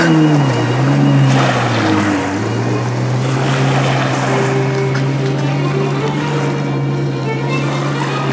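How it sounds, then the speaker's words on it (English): A jet ski engine drones loud and close as it rides over waves, its pitch dipping and settling while water rushes and wind roar continuously underneath. "I'll show you the jet ski."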